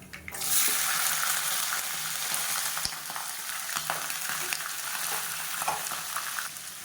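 Finely chopped small onions (shallots) sizzle loudly in hot oil with dried red chillies, a steady bright frying hiss with occasional stirring clicks, close and continuous without any talk.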